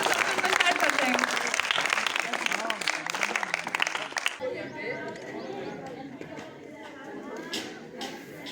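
An audience claps at a school farewell function, a dense burst of applause that fades after the first few seconds into softer crowd chatter and scattered claps.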